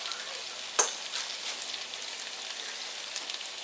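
Onion browning in a pan gives a soft, steady crackling sizzle with a sharper pop near the start, low and continuous, with no voices.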